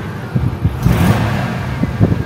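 Chevrolet LT van engine revving with a straight-six, loud and close, rising and falling in several surges over a steady idle rumble.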